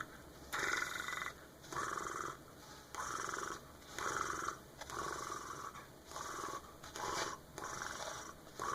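A person imitates a cat's purr with the voice, making rhythmic rattling breaths in regular pulses of roughly one second, close and fairly quiet, with no words spoken.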